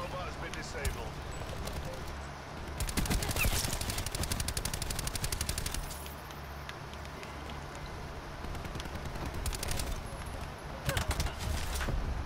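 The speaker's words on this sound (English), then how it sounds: "I'm just shooting the robot." Gunfire from Call of Duty Black Ops 4 hits a robot in several rapid automatic bursts. The bursts are separated by short pauses, sound close and loud, and play under speech.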